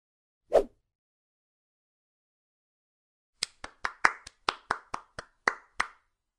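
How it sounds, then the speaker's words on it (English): Hands clap once alone, then after a pause clap in a quick run of about ten crisp, evenly spaced claps, close and dry against silence. "Clap."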